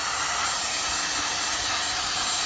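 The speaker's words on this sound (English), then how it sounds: "I'm just heating it up again, kind of bake it in there." A hot air blower heats fresh red paint on brake calipers, giving a steady, loud, unbroken airy roar and hiss that holds even from start to finish.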